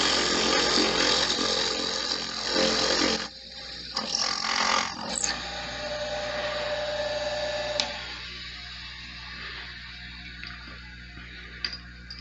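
Drill press boring a 1.25 inch deep hole into a metal workpiece, a steady broadband machine whir that grinds on continuously, dips briefly near the third second, then settles into a quieter hum, with no voices present.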